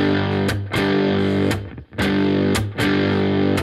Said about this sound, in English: So we stop the sound by karate chopping and then release when we play the strings again.